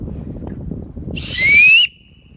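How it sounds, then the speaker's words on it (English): A loud, shrill whistle blown through a small triangular whistle held to the mouth outdoors on a woodland walk, one sustained piercing blast with a slight rising pitch, heard over steady low wind noise. "It makes a very loud whistle."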